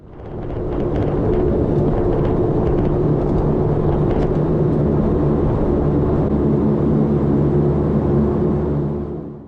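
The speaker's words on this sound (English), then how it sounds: "After landing, we taxied to the Sharp Airlines terminal via Bravo." A Sharp Airlines airliner taxis toward the terminal after landing on King Island, its engines giving a loud, steady roaring drone heard from inside the cabin that swells in and tapers at the end.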